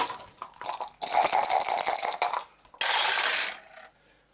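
Dice for the Arkham Horror board game rattle and clatter across a table in two loud, close bursts, with a brief pause and scattered clicks between them.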